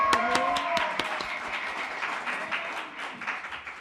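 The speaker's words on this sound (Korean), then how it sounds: "한번 이 영상을 먼저 한번 하나님께 영광의 박수 올려드릴까요?" A church congregation applauding during a special dawn prayer service, scattered claps swelling into a dense round of applause that carries on throughout, with no speech.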